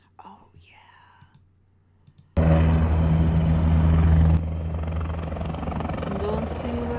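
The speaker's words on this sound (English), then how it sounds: "Don't be worried. It's just an attack helicopter." An attack helicopter roars suddenly and very loudly, a dense close rotor-and-engine wash that holds steady, following a few seconds of quiet whispering.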